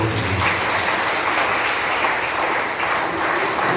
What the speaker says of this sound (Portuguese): Você que pode aplaudir o Senhor.